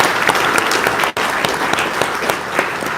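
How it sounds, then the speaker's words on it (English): Audience at an executive ethics symposium applauding the moderator, panel and sponsors: dense, steady crowd clapping throughout, loud and near, with one abrupt momentary dropout. "Big round of applause."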